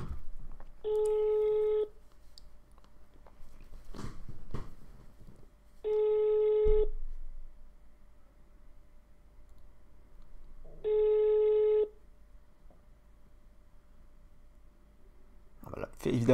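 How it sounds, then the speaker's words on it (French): A telephone line sounds for a prank call as three long, evenly spaced electronic ringback tones, each about a second long with pauses between, over faint background noise and brief clicks. "Le numéro de téléphone est composé, la carabistouille est en marche"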